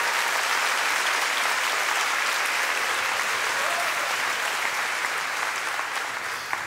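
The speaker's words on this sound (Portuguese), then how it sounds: "Dá uma salva de palmas ao Senhor." A church congregation gives a round of applause during a sermon, a loud continuous roar of clapping that holds steady for several seconds before easing slightly at the end.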